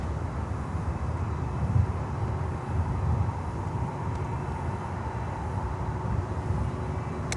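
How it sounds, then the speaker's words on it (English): An American Airlines Boeing Dreamliner lands on runway 12 at Miami airport, heard as a steady, fairly distant broadband roar of jet noise that holds evenly throughout, with no voices. "we have a Dreamliner coming in on runway 12 from JFK, American Airlines flight 688"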